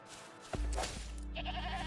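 A goat bleats inside the video game Wuthering Waves, a short wavering cry after a sudden thump, set against game ambience with a second quieter call at the end.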